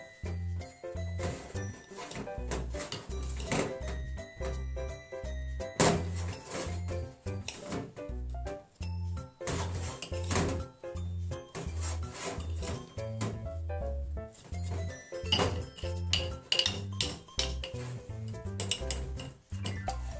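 Onion and koji being stirred together in a container give repeated scraping, rubbing and knocking sounds in uneven bursts, close up, with music underneath and no talking.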